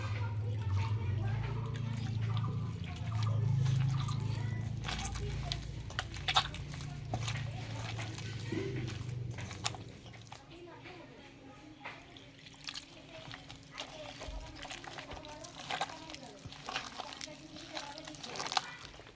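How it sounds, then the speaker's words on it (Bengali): Jackfruit fritter batter being mixed with milk in a bowl, wet sloshing and stirring sounds with light clinks, louder at first and then softer, under a voice speaking throughout. "এবার অল্প অল্প দুধ দিয়ে মেখে নেব।"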